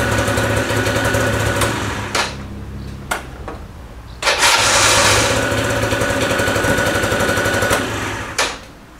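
A motorcycle or scooter engine runs loud and close at a steady idle, with brief revving blips and a short dip before the note climbs back and holds steady.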